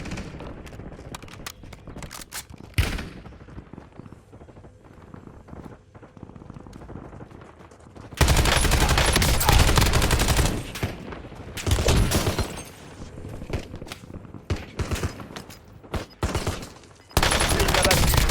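Bursts of automatic gunfire from a Call of Duty Warzone match, loud rapid volleys alternating with quieter stretches of distant shots and game sounds.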